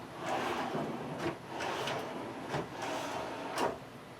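A smooth wooden drawer in a handmade kitchenette slides open and shut several times, each soft rolling stroke coming about a second apart, close and moderately loud with no talking.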